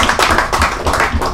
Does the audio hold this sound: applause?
yes